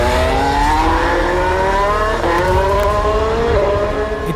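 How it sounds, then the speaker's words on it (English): A Formula One race car engine screaming at high revs on track, loud and sustained with rising harmonic whine and brief shifts in pitch as it's pushed hard, no voices. "Nothing tests oil like a Formula One car being pushed to breaking point in the pinnacle of"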